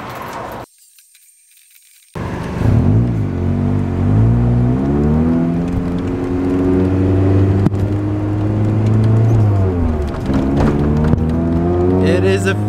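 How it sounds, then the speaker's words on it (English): A Nissan 240SX pulls away, its engine note rising and falling through steady gear changes, loud and close for most of the stretch after a brief quiet start, with occasional rev swells. "I am driving the 240 actually to work."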